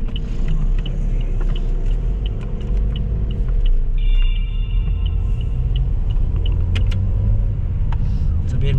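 A Toyota Vios on a road test: steady, close engine and road rumble from inside the cabin, with small ticks and brief electronic chimes over it.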